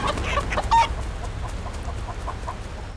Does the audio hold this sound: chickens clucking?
yes